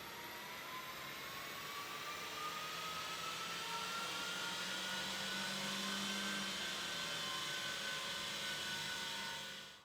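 An engine held at a steady high pitch on a rolling road dyno during a power run after a hydrogen carbon-cleaning treatment, a sustained whining drone that rises slowly in pitch for nearly ten seconds before cutting off.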